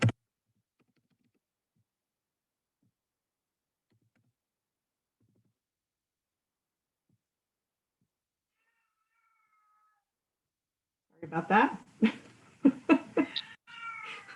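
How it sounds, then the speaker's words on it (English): A vocal cat meows several times in quick succession, fairly close, in a home during an online parks and recreation meeting after a long near-silent stretch; a person speaks briefly. "The very vocal cat in the background there."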